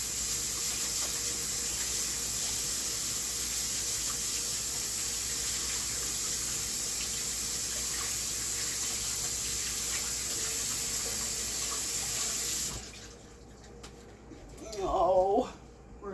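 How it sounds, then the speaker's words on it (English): Water running steadily from a tap while hands are washed, a continuous close hiss that cuts off near the end, followed by a brief burst of speech. "You'll hear the water running."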